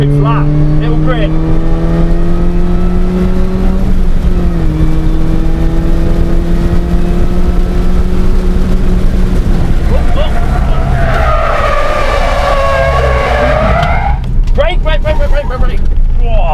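Race car at Donington GP circuit, loud engine note dropping through a downshift then climbing hard under acceleration, with tire noise and a voice talking over it.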